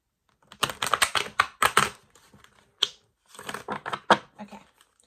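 Tarot cards riffled and shuffled in quick bursts of crisp, papery flutters, two main rounds separated by a short pause, close up.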